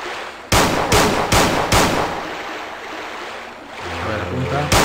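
Four sharp revolver gunshots in Resident Evil 2 on PS1 crack in quick succession, followed by a steady watery rush and a low rumble in the background.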